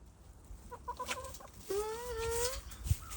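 Hens on a small ranch cluck and squawk in short bursts, one drawn-out rising cackle standing out close by, with other fowl softer in the background.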